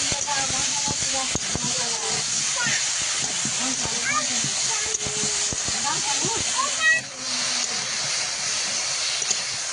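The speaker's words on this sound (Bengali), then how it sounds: "ভালোভাবে একটু কষানোর জন্য অল্প একটু জল দিয়ে দেবো, দিয়ে আর কষে নেব" Taro seasoned with salt and turmeric hisses steadily in the pan after a splash of water goes in, a continuous loud sizzle with faint voice and utensil sounds underneath.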